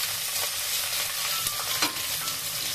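Onion and green chillies fry in a pan with a continuous close sizzle and a few stirring scrapes, no speech.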